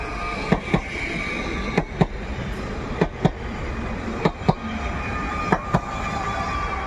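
Alfa 2 train on the S1 line from Gliwice to Częstochowa rolls past in winter near Katowice Zawodzie, a steady broad rumble broken by sharp, evenly spaced rail-joint clacks, loud and close, with no voices.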